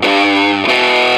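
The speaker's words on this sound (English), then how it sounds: "I'm going to leave the distortion on" Distorted electric guitar in a rocky blues style plays a loud, sustained chord that rings steadily, then shifts abruptly to a new chord about halfway through, with no talking.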